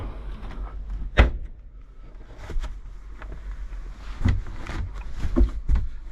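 A storage compartment door in a 2021 Hymer MLT580 motorhome gives a sharp clunk followed by softer bumps and clicks as it is handled, close by against a quiet interior.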